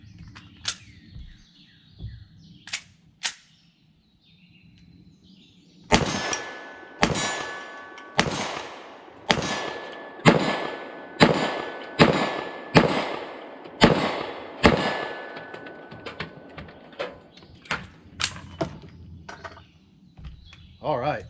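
A PSA 5.7 Rock pistol in 5.7x28mm fires a steady series of sharp shots, most followed by a ringing clang from a steel plate 25 yards away. A few scattered shots and a pause come before the rapid volley. A voice talks faintly in places.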